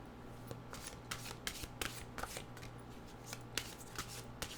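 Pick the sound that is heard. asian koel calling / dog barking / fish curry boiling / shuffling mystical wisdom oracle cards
shuffling mystical wisdom oracle cards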